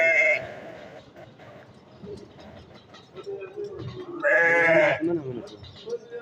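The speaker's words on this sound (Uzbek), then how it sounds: "Akalar ena bola hamda bo'g'oz qo'ylar so'raganlar." Sheep bleat loudly at a livestock market, including pregnant ewes and ewes with lambs, two clear bleats standing out over steady nearby talk and crowd noise.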